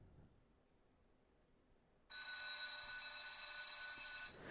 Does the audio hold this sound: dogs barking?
no